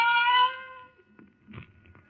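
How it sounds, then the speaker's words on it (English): A single cat cries out in a radio drama sound effect, one drawn-out plaintive meow lasting about half a second and then fading, followed by faint scattered rustling. "the silence was broken by the faint crying of one cat"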